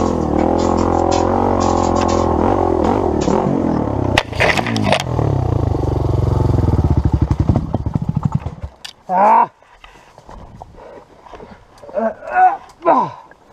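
An XR400 dirt bike engine runs on a trail, a loud close mechanical drone that rises and breaks into rapid pulses before sputtering and dying, followed by brief talk and some bumps.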